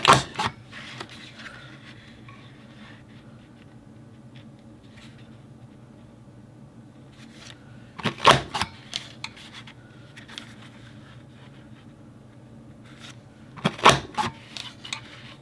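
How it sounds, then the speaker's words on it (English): A scrapbooking paper punch cuts through paper in a few sharp, crisp clacks spaced several seconds apart, close by in an otherwise quiet room. "I'm going to go ahead and punch one more"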